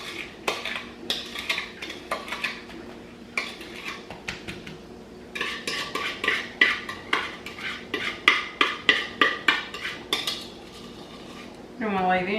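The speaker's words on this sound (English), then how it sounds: "make sure you scrape the bottom of that pan" Metal utensil scraping and clinking against a pan or bowl while candied pecans are dumped out, a run of sharp, irregular scrapes and knocks, close and fairly quiet.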